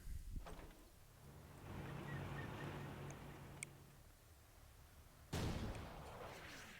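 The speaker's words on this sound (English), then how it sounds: "the tech heavy mortar is taking some shots to incoming vehicles" A tech heavy mortar firing on incoming vehicles in the real-time strategy game Rise of the Reds, dull booming launches and thuds amid low rumbling battle ambience, fairly quiet overall.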